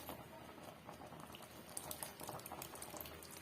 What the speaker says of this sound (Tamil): குழம்பு நல்லா வந்து ஒரு முக்கால் ஸ்டேஜுக்கு நல்லா கொதிச்சு வந்துடுச்சு